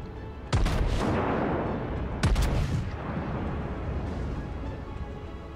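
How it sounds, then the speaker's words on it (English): Warship main guns fire in the World of Warships naval game, two loud, close booming salvos a couple of seconds apart, each trailing off in a rumbling roar. "Get my guns around, I'll give him a shot."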